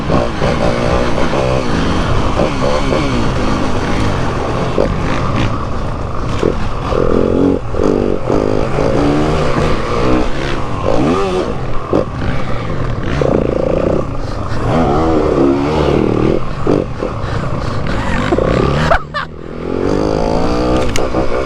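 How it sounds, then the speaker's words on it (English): A 2022 Yamaha WR250F dirt bike ridden hard around a lap, its engine revving and bouncing continuously up close, with clatter and scraping from the terrain throughout. "This is a goon lap with Lel."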